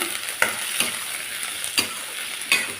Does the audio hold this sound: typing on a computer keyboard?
no